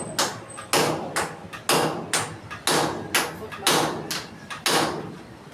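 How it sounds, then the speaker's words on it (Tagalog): Hammer blows on a ceiling frame during ceiling construction, about a dozen sharp, loud strikes in an uneven rhythm, each ringing briefly before the next, with faint voices in the background. "Pinupukpok na ni Michael sa kabilang side."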